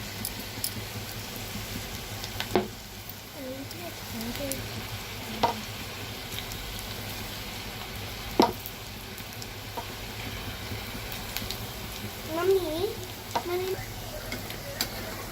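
Onion pakoda batter dropped into hot oil, a steady bubbling sizzle with a few sharp clicks and crackles, and brief chirping sounds layered over the frying.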